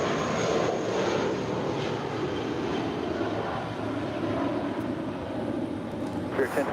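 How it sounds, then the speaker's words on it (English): Spirit Airlines Airbus A320-232 rolling down the runway at Chicago O'Hare on takeoff, a loud sustained jet engine roar with broadband rumble, steady and close throughout. "Rolling down the runway, there is a Spirit Airlines Airbus A320-232."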